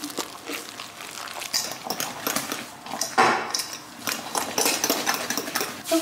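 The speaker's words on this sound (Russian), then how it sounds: "Перемешиваем." Batter for a baked zucchini roll is stirred in a bowl in a home kitchen, with repeated scraping and clinking strokes of utensil against the bowl, fairly close and loud, with no talking.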